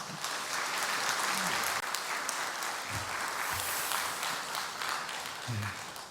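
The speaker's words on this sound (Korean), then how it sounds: "우리 목사님 나오실 때 큰 박수로 우리 한번 환영해 주시기" A church congregation applauds at a Sunday afternoon service to welcome the pastor, with dense, sustained clapping filling the room and a few faint voices underneath.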